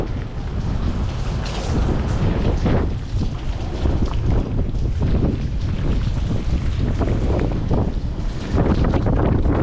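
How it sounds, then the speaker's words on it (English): Hurricane-force wind buffets the open deck of the new Disney Wish cruise ship at sea, a loud, continuous roaring rumble of gusts battering the microphone with no clear speech. "I want to show you guys what it's like to sail on the brand new Disney Wish in the middle of a hurricane"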